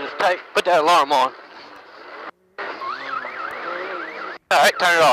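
Warbling alarm on a UTV during an off-road highland race, a cycling siren tone heard mid-clip over engine and road noise, with people talking loudly before and after it.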